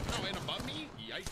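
Bursts of gunfire from the Apex Legends video game play in quick succession beneath someone talking over them.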